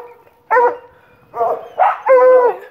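Hunting cow dogs barking at a tree outdoors: a few close, loud barks, one short bark followed by a quick run of two or three overlapping yelps and barks, with brief quiet gaps between them.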